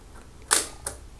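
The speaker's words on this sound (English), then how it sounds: "release the shutter" Two crisp mechanical clicks from a Zeiss Ikon Contina II film camera as its shutter is released by cable, the first sharp and louder, the second lighter, alone in quiet surroundings.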